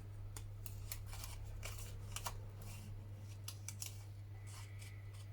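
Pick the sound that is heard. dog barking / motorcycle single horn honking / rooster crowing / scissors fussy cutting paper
scissors fussy cutting paper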